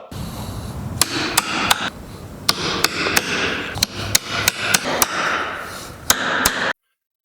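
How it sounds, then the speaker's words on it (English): Hammer blows drive nails into wooden mounting boards for a blacksmith's anvil, about fifteen sharp, close, loud strikes in an uneven rhythm over a steady background hiss. "Something else to consider whenever you're hammering these guys in is I come into the angle"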